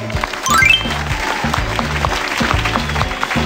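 Studio audience applause after children's quiz scores on a televised family game show, a dense sustained burst of clapping that rises early, then holds steady over a rhythmic music bed.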